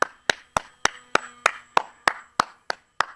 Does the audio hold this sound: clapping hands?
yes